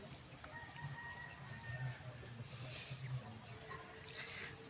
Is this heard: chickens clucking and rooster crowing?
yes